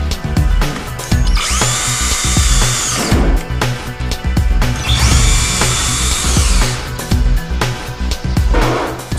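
A power screwdriver drives 4 x 40 mm screws through a lower window hinge into the frame, whirring loudly in two long rising bursts with clicking and handling noises between them.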